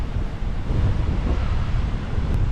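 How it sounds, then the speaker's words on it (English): Strong wind on a stormy day beside cascading white water buffets and roars across the microphone in a constant rumbling gust, loud and close, with no voices. "it's getting quite windy now"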